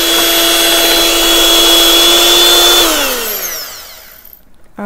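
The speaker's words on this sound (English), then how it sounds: "Add our milk in, give everything just a good mix." A stand mixer or hand mixer whirs loudly and steadily while milk is blended into carrot cake batter, then winds down and stops near the end.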